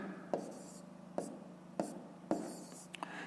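Pen strokes scratch across paper during a fifth-grade maths exercise, coming in short bursts with brief taps between them, quiet and close.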